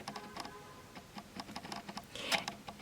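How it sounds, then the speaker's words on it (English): A noisy camera gives off a quiet, steady run of small ticks and clicks under a faint whir, with a brighter burst near the end. The setting is a watercolor and Neocolor II landscape painting session. "My camera is quite noisy, so apologies for that."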